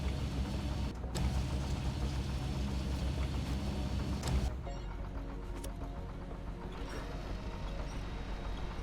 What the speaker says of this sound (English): I gotta turn the engine on